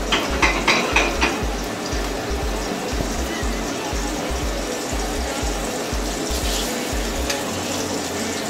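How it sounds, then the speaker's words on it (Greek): Tuna seared in a frying pan and turned on all sides, a constant sizzle and hiss with a few scraping clinks of utensils against the pan early on, close and steady. "Γυρίζω τον τόνο μέσα στη τηγάνια από όλες τις πλευρές, ώστε να δημιουργήσω μια κρούστα απ' έξω."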